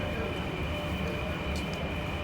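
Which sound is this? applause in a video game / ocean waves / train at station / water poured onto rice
train at station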